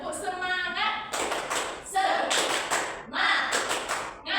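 A small class of about five pupils performing the rhythmic 'tepuk semangat' spirit clap, with patterned bursts of clapping alternating with chanted voices.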